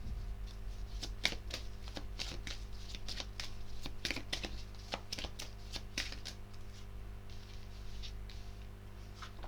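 Tarot cards shuffled and dealt out for a reading, a steady run of crisp riffling flicks and soft slaps laid down one after another at close range over a low constant hum, with no one speaking.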